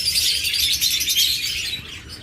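Red head opaline lovebirds chirp continuously in a dense, shrill chatter of overlapping tweets, close and steady throughout.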